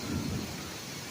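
Thunder from a lightning storm over New York rumbles low and heavy, with a deep roll that fades within a second beneath a steady hiss of rain.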